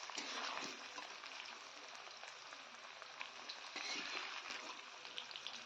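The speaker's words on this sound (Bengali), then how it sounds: "কচুটা কিন্তু কিছুটা ভাজা হয়ে গেছে তবুও আমি আরও কিছুক্ষণ ভেজে নেব" Taro (kochu) pieces fry in hot oil with a quiet, continuous crackling sizzle that holds steady throughout.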